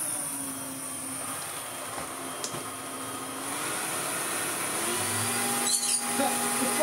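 A Makita 18V DVC560 cordless vacuum cleaner runs with a steady, close whirring hum and a faint high whine, holding even for several seconds with a slight rise in level partway through.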